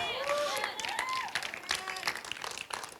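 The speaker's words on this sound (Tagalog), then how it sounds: "Salamat po sa 10 pumalakpak." Congregation at a church worship service applauding, a scattered crowd clap that swells and fades across the clip, with talk and a voice running over it.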